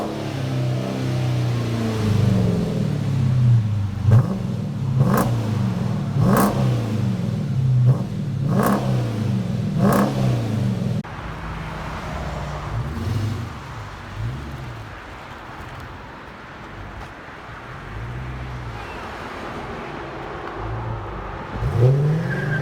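A 2016 Dodge Charger R/T with a 5.7-liter HEMI V8, dual exhaust, resonator delete, X-pipe and MagnaPacks idles loudly with a burbling rumble and is revved in a string of quick, sharp throttle blips, then a final rising rev.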